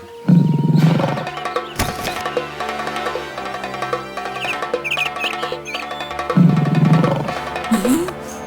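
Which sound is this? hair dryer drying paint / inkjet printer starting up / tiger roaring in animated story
tiger roaring in animated story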